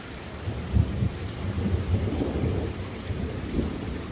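Low thunder rumbles and rolls on for several seconds during a nearby storm, with a steady hiss of rain filling the background.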